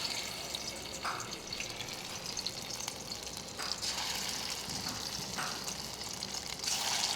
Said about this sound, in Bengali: এই মাছগুলোকে এবার ভাজা হবে